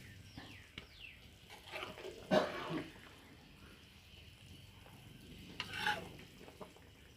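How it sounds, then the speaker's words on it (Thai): Shan-style Thai food stir-fried in oil in a pan makes a faint, low sizzle with occasional louder scrapes and clatters of a utensil against the pan, fairly quiet throughout. "น้ำแห้งแล้วก็เอาน้ำมันใส่เหมือนเรามาคั่ว"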